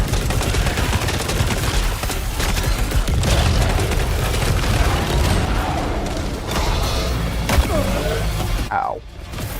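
The Horde shotgun firing in Saros, heavy booming blasts and mechanical reload clatter amid dense chaotic combat noise, loud and close throughout.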